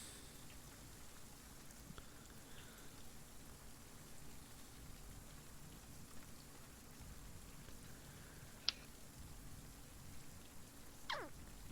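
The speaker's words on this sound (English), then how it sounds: "The rain begins to lighten up a little bit." Steady, faint rain falling in a soft continuous hiss, with a couple of brief isolated clicks and distant chirps over the even wash.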